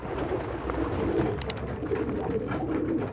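Domestic pigeons in a coop, cooing softly and continuously at close range, with a low rolling murmur throughout and a brief wing flutter or scuffle midway.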